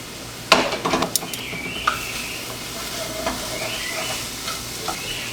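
Food for a bulk meal prep fries in a pan, with a loud clatter and rattling shake at the start, then a steady sizzle with occasional scrapes and hissing steam, close up and without voices.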